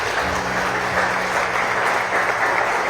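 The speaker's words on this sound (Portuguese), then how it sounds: "Aplauda ao Senhor." Congregation at a church service breaking into sustained, loud applause, a dense wash of many hands clapping together.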